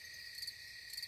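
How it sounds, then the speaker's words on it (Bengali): Crickets chirp steadily at night in a Bengal village, a continuous high, monotonous trill with slight pulsing swells, alone and fairly faint with no other sounds. "কানে আসছে একঘেয়ে ঝিঝির ডাক।"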